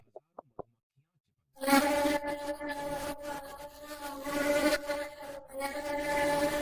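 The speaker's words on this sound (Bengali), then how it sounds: "এর গায়ে অসংখ্য মৌমাছির কোলাহল দেখা যাচ্ছিল" After a few faint ticks and a moment of silence, a dense, droning buzz of a bee swarm attacking a horse starts and continues steadily, close by.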